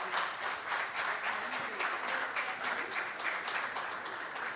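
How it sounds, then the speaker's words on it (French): Steady, sustained applause from a large crowd at a national champions awards ceremony fills the space, even and continuous throughout without a pause. "Sous vos applaudissements"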